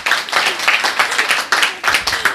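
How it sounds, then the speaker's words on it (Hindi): Students clap for a coaching teacher at the reopening of a coaching centre, a brief burst of group applause with dense, irregular hand claps throughout. "सब लोग एक बार एसके झा सर के लिए ताली बजा दीजिए"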